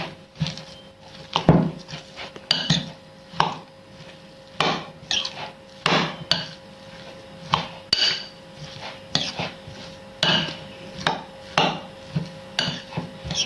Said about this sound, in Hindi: अब हम इसे मिक्स कर लेंगे